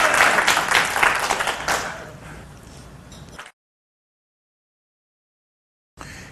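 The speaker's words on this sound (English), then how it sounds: "You either have to give me a full round of applause, like collectively," Audience applause at a dating-technique seminar, a loud full round of clapping that fades over a few seconds and cuts to silence before a brief return near the end.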